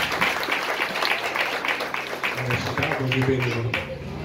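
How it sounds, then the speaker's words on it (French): A church congregation claps in a dense patter that fades under a voice, moderately loud, with the applause carrying on beneath his talk. "On nous applaudit là la gloire de Dieu."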